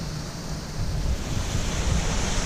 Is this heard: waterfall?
yes